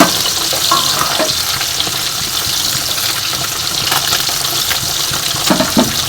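Fish roe fritters sizzle and crackle steadily in a pan of Bengali-style curry, a close, continuous frying hiss with occasional stirring sounds.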